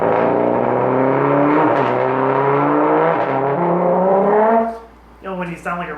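Trombone imitating a race car taking off: one long, loud, buzzing slide climbs slowly in pitch, then breaks off into a few short, lower blasts.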